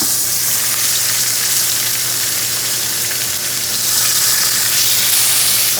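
A New York strip steak seared on its edge in a hot pan, giving a loud, dense, continuous sizzle that holds steady and swells slightly toward the end, with no voices.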